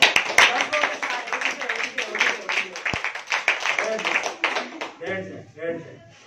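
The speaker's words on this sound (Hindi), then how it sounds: "तो अब आप उठ के सेलिब्रेट करें, तालियां बजाएं, सारे आंखें खोल दें, तालियां सारे।" An audience claps during a motivational talk. The claps are loud and uneven and come in bursts, and a voice is heard near the end.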